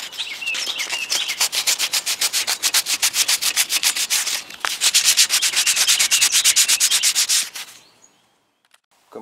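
A small 180-grit block rubs by hand across a fiberglass wiper cowl panel in fast, rhythmic back-and-forth sanding strokes, close and loud, with a brief pause midway before the strokes stop and it falls quiet.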